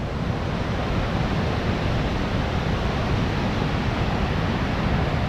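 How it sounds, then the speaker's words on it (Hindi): A fast-flowing mountain river rushes past a flood-damaged, broken bridge in Himachal Pradesh, a loud, dense and continuous roar of water with no breaks. "पानी का बहाव भी तो तेज़ है"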